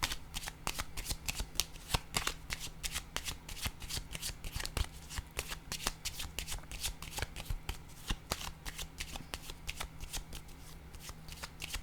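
Tarot cards are shuffled with rapid, crisp riffling and slapping, followed by cards being set down. A dense run of sharp flicks and taps repeats close by throughout.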